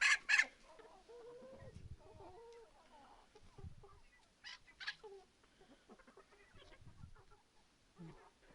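Chickens cluck softly nearby in short, scattered bursts, with a few sharper squawks mixed in against a quiet yard.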